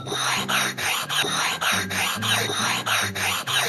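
Two sharpening stones are rubbed flat against each other in a steady back-and-forth rhythm, about eight gritty scraping strokes in under four seconds, close and clear with no talking.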